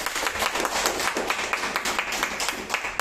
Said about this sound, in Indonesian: boleh tepuk tangan buat Rodwan.